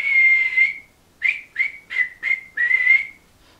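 A person whistles a short tune: one long held note, four quick chirps, then another sustained note, clear and close with no talking.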